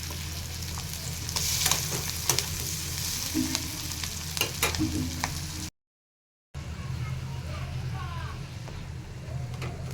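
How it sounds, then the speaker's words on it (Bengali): Onions fry in leftover fish-frying oil with a steady, close sizzle and occasional stirring scrapes. The sizzle cuts out briefly midway, then resumes just as strongly. "প্রথমে পেঁয়াজগুলোকে তেলের ওপরে ভেজে নিলাম"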